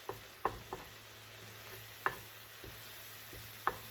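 Eggs for cauliflower fried rice cook in a frying pan with a soft, steady sizzle, punctuated by a few sharp clicks and scrapes of a utensil against the pan.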